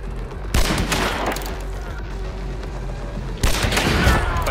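Terminus shotgun blasts in Hunt: Showdown, two sharp, loud reports with rough echoing tails, the first followed by a long ringing decay before the second hits close.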